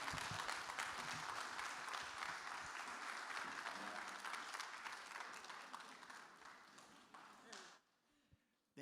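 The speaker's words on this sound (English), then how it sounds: "Let's give her another round of applause." An audience applauds after a talk on authentic leadership, a steady wash of clapping that gradually thins and fades out near the end before a brief sound cuts in.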